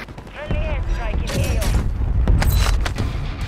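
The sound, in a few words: gunfire in a video game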